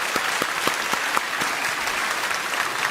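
A church congregation applauds its Sunday school teachers during a Sunday worship service, a steady roomful of clapping throughout.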